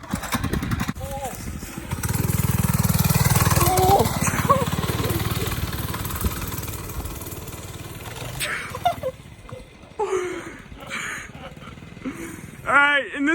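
A small mini bike engine buzzes steadily while ridden outdoors near woods, loud and close at first, then fading into the distance as voices shout and talk over it.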